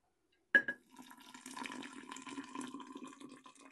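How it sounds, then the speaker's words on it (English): Hot water poured over sugar for homemade strawberry banana wine, starting with a sharp clink, then a steady splashing pour that continues at close range. "I'm going to add about 2 cups of hot water."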